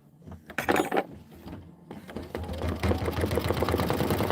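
An embroidery machine stitches an orange fill, its rapid mechanical chatter starting in short bursts and then running steadily and fairly loud to the end.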